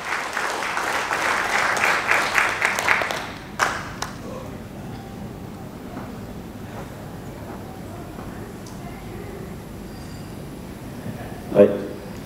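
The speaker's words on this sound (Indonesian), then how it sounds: "mari beri tepuk tangan yang meriah kepada Bapak Tarif, formulator kita" Agricultural seminar audience breaking into lively applause, a full burst of clapping for about three seconds that then drops off to scattered claps and low murmuring, with a brief knock near the end.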